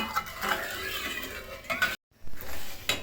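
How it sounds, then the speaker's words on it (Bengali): Milk stirred in a pot over a raised flame, soft continuous scraping and swirling with light utensil contact, a brief silent gap, then stirring resumes. "এখন আমি চুলার আঁচটা বাড়িয়ে দিলাম আর নেড়ে চেড়ে দুধটাকে বলক আনিয়ে নিব"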